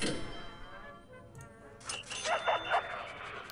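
A dog at a prison kennel in the game Prison Architect gives a few short, quiet yips and barks over a low ambient background, with no talking.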